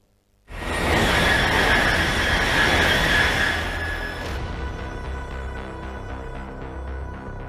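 A Japanese Shinkansen E10 bullet train bursts into a loud, close roar that holds for a few seconds, then eases into a steadier rushing rumble with faint rhythmic clatter, with no voices.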